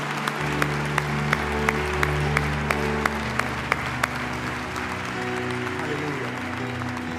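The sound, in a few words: audience applause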